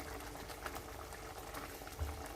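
Tamarind brinjal curry with masala bubbling in a pot, a steady soft simmer of popping bubbles with a low rumble underneath, fairly quiet and continuous with no voices.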